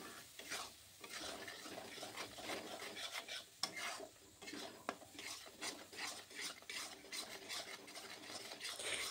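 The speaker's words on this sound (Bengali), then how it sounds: "এবারে ভালো করে একটু মশলাটা কষিয়ে নেব" Spice masala with turmeric and a splash of water stir-fried in a pan for spinach and shrimp curry, a steady rasping scrape of the spatula with soft sizzling, continuous and close, with no voices.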